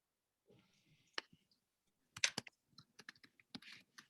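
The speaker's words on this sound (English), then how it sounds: "Sorry, I was typing." Fingers type on a computer keyboard in short uneven bursts of clicks, close and fairly quiet, with a brief pause before a faster run of keystrokes.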